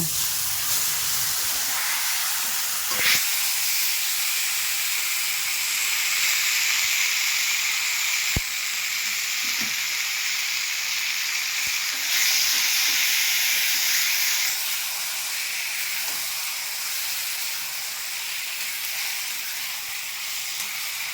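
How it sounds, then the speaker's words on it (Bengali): Steamed taro leaves hit hot oil seasoned with cumin, bay leaf and green chilli, giving a loud, steady hiss and sizzle that runs throughout, with a few faint clicks of the pan and no talking. "ভাপিয়ে রাখা কচু শাকটা এবার দিয়ে দেব।"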